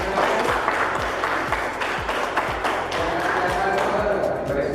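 Classroom applause, a dense burst of clapping from a group of students at close range, steady and loud throughout without pause.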